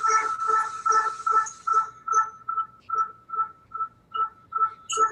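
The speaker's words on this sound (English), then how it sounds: "This is the sound of data collected by the SWIFT satellite, of a gamma ray burst" Sonified Swift satellite data from a gamma ray burst, heard as a faint series of pulsing electronic tones in a steady rhythm, about two per second, fading and thinning toward the end.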